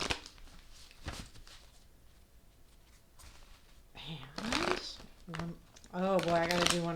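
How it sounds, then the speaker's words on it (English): A deck of cards is shuffled with soft riffling and crinkly rustles in a quiet room, followed by a person speaking. "I'm going to shuffle a couple more times"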